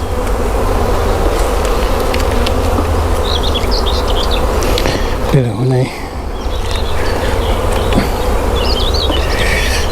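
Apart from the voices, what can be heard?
honeybees buzzing around hive frames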